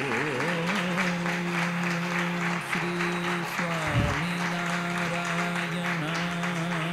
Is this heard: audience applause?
yes